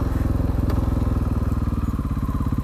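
A KTM 500 EXC supermoto motorcycle runs loudly up close, its single-cylinder engine thumping in a fast, steady rhythm of low pulses as it sets off, with a brief clatter partway through.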